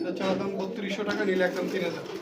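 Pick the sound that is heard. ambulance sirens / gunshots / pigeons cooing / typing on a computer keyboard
pigeons cooing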